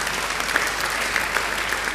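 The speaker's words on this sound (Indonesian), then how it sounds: "Beri tepuk tangan yang baik buat dia." A church congregation breaks into applause during a sermon, a brief burst of dense, steady clapping from many hands.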